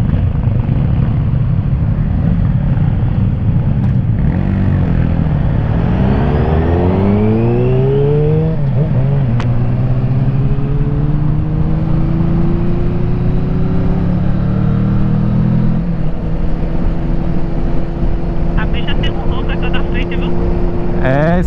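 A motorcycle with an Akrapovic exhaust revs and pulls past on a group ride in Pernambuco. The engine note swells, rises and falls and then settles into a steady drone, loud and close against continuous road and wind noise.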